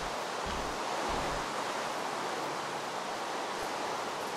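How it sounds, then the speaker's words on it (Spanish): Heavy rain falls in Minecraft, a dense, steady hiss of downpour that stays even and continuous throughout, with a couple of faint low thumps near the start. "Joder, buena lluvia."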